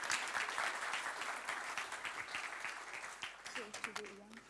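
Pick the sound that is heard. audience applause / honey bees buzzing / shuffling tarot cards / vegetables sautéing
audience applause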